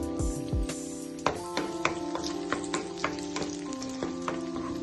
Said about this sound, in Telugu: కడాయి పెట్టుకొని 2 స్పూన్ల నెయ్యి వేసి జీడిపప్పులు వేయించుకోవాలి